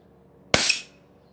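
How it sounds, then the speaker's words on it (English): A nozzle is popped off a Drozd Blackbird air gun, giving one loud, sharp snap with a short hissing tail of released air, close by and alone. "we're going to pop off the nozzle from the gun, and you're going to hear a loud snap"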